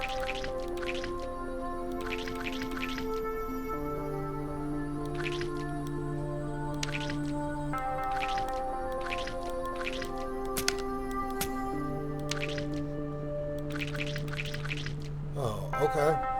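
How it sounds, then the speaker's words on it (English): Embalming machine pumping fluid through tubing into a cannula in A Mortician's Tale, giving soft wet drips and squelches over a sustained tonal background hum. "We need to connect the embalming machine to the cannella."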